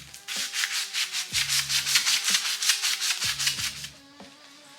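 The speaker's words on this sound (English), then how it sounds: "we're going to use the sandpaper, get the stickers off this thing," Sandpaper rubbed by hand over a steel front axle part of a Wheel Horse mower, scuffing off stickers in quick, rhythmic back-and-forth strokes, close and fairly quiet, with no talking.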